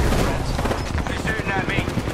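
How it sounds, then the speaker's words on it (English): Rapid gunfire in the video game Apex Legends, a dense burst of automatic shots with booming impacts, loud and continuous over the whole moment, mixed with game sounds. "They're shooting at me."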